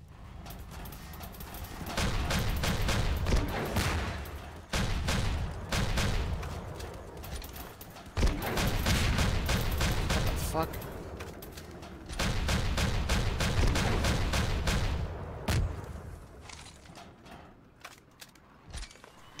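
Weapons fire in a Garry's Mod Star Wars RP hangar battle, including a grenade launcher, comes as dense repeated volleys and bursts, loud and close, running almost without pause before thinning out near the end.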